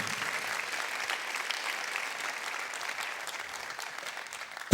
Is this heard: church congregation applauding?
yes